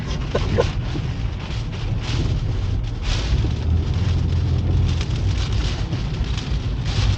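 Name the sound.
storm with heavy rain and wind, Storm Ciaran, Guernsey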